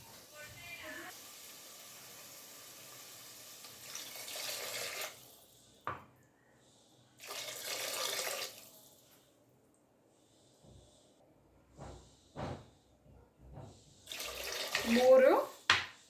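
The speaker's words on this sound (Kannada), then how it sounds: "ಈಗ 2 ಗ್ಲಾಸ್ ಅಕ್ಕಿಗೆ 4 ಗ್ಲಾಸ್ ನೀರು ಹಾಕ್ಕೊತೀನಿ." Water poured from a glass onto two glasses of rice in a pot, four glasses in all, splashes in separate near pours with quiet gaps and small clinks between them.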